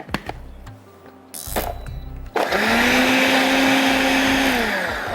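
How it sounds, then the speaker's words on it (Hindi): Kitchen blender whirring as it purees a green haryali chicken marinade with oil, a loud steady grind starting abruptly partway through after short bursts and pauses, then running continuously to the end with no talk. "अब इसको हम ब्लेंड कर लेंगे।"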